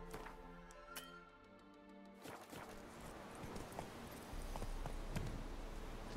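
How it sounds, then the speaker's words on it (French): A horse's hooves clip-clop in The Witcher 3, sharp and irregular at first over game music and ambience, turning into a busier running gait later. "Au galop, Ablette"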